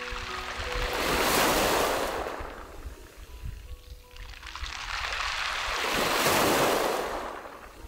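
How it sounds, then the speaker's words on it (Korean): Waves roll in and draw back over round pebbles on a pebble beach on Baekyado, Yeosu, two broad surges with rattling, hissing stones between them, close and loud, no talk. "오랜 세월 파도가 빚어낸 동글동글한 몽돌들이 서로 부딪히며 맑은 소리를 들려줍니다"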